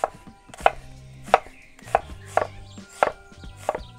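Knife chopping through halved onions into strips on a cutting board, about seven distinct sharp cuts at a steady, unhurried rhythm, close and clear with no talking.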